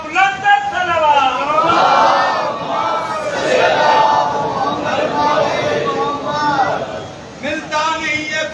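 Large gathering at a Muharram majlis loudly reciting salawat together, a dense roar of many voices chanting in unison, swelling and falling across several phrases, close and continuous.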